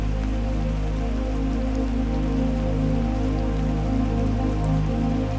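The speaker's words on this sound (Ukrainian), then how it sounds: "Дощ повільно стає густішим." Steady rain, slowly growing heavier, patters densely on a surface, a constant wash of drops with a low rumbling undertone and no talking.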